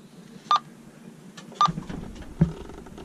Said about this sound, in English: our old AIS, which is up here, used to just beep to let us know